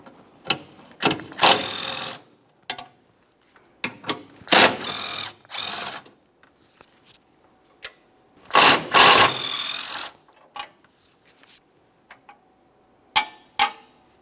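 A hand ratchet with a 14mm socket working on the valve cover bolts of a 2015-2019 Subaru Outback 2.5L H4, giving close, sharp bursts of rapid clicking separated by short pauses and quiet handling sounds.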